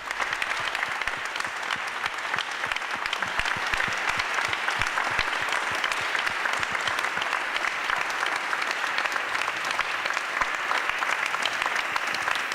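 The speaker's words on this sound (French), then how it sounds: "S'il vous plaît, vos plus chaleureux applaudissements." A large audience at an evening village fair applauds steadily, a dense, even wash of clapping that holds for the whole stretch with no break.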